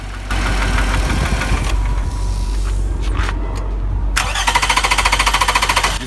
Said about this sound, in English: you can see the noise that is coming from the engine